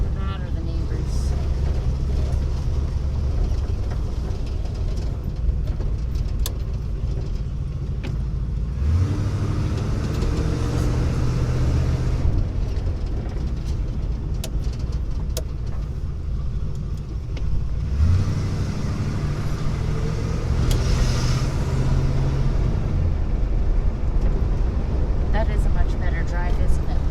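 A 1977 Century fitted with an Edelbrock 750 CFM carburetor drives along, its engine a steady, close, mid-pitched drone that rises and falls as it accelerates. Someone talks briefly over it.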